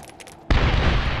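A grenade blast in the video game Medal of Honor (2010) comes in after a half-second lull: a sudden loud boom that stays at full strength through the rest of the clip. No one talks over it.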